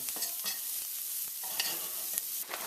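Garlic fries in a hot pan for a Caribbean curry crab while it is stirred quickly, giving a bright continuous sizzle with repeated scraping strokes up close and no talk.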